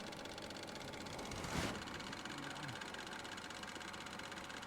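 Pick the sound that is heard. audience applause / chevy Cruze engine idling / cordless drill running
chevy Cruze engine idling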